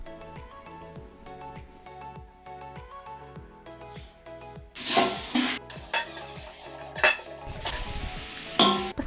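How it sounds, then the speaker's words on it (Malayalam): A spoon stirs salted sliced onions frying in a pan, with rhythmic scraping and clinks at first, then louder bursts of sizzle and metal-on-pan clatter, close and alone without talk. "അതുകൊണ്ടാണ് നമുക്ക് നന്നായിട്ട് ഇളക്കി കൊടുക്കാം"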